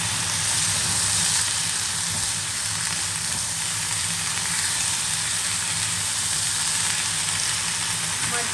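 Cauliflower, potato and tomato frying in a pan with cumin seeds and ginger, giving a steady close hiss and sizzle that runs unbroken without any voices.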